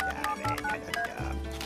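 Quick touch-tone telephone dialing in a French cartoon, a string of short electronic beeps in irregular succession, clear and close with no talking.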